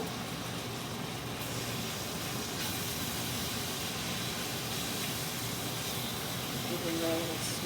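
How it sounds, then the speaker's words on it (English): Shrimp cooking in a hot pan give off a steady, dense hiss that runs close and unbroken for the whole stretch, with a voice talking faintly underneath. "Going to the shrimp being cooked"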